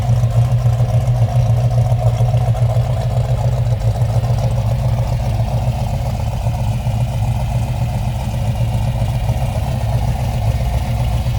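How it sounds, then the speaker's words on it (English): A restored 1970 Plymouth Cuda with a 426 Hemi idles steadily, its deep, even engine rumble holding at a constant level throughout, close by and with no talking. "Nothing beats the sound of a Hemi either."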